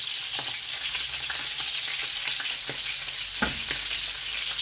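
Meat sizzles steadily in a pan as ground pepper is added, with a dense frying hiss throughout and a few soft scraping stirs; no one speaks.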